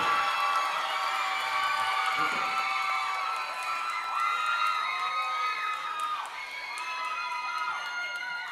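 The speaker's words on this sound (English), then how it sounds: "Give them a round of applause." Audience at a school dance festival on a stage applauding and cheering, a dense sustained wash of clapping with whoops and children shouting, moderately loud and continuous throughout.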